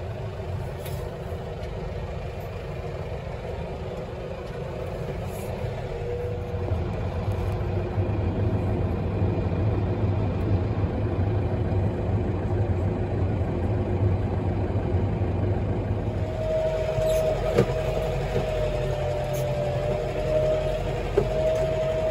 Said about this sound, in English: we're going to park the tractor in the catch pen.